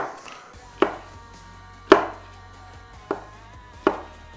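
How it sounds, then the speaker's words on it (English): Folded steel knife cutting a pepper on a board, four separate sharp chops spaced about a second apart, close and crisp, each ringing briefly, with no speech. "so I'm going to cut this pepper this way"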